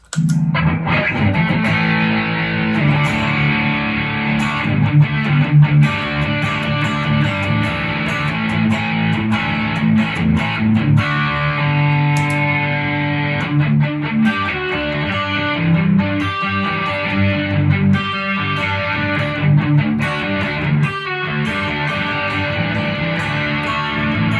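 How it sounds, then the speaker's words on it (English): An electric guitar played through a BB preamp drive pedal stacked with another drive, giving a crunchy 80s classic rock tone, with steady driven chords and riffs filling the whole stretch without talk. "using the BB preamp kind of gives me that 80s rock / classic rock kind of tone, because it is basically a drive pedal"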